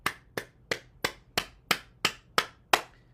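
Cupped-hand clapping percussion on the body, a steady series of nine sharp hollow slaps spaced about a third of a second apart, close and fairly loud with no talking.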